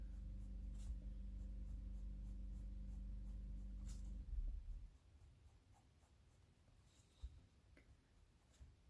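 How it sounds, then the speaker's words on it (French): A pencil makes a quick run of small scratchy strokes on paper while drawing an emoji-style figure, soft and close, over a low steady hum that cuts off midway, followed by quieter scattered scratches. "vous pouvez jouer en faisant des petits traits comme ça pour donner un peu plus de texture"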